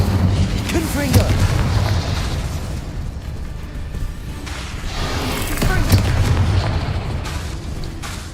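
Confringo and Incendio spell blasts go off in Hogwarts Legacy, a continuous barrage of booming, popping fiery impacts during combat, dense and loud, with a few stronger bursts standing out over a constant rumbling bed.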